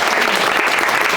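Audience applause fills a Korean vocational high school lecture on pork butchery and deboning, a dense, steady clapping from a crowd that holds evenly loud with no pauses.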